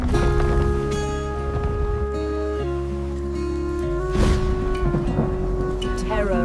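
A raging storm at sea, with a rumble of thunder and the broadband wash of rain and spray beneath a ship, mixed under a steady, prominent musical score that holds throughout.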